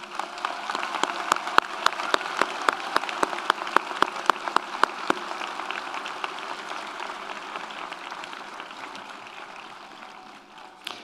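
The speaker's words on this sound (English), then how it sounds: "Would you join me in giving them a round of applause?" Audience at the 2022 County College of Morris commencement ceremony giving a round of applause, sustained clapping with distinct sharp claps standing out early, fading gradually toward the end.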